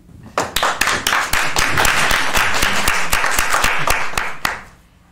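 An audience claps for a young performer taking a bow, with distinct nearby hand claps starting sharply, building into steady applause for about four seconds, then stopping abruptly.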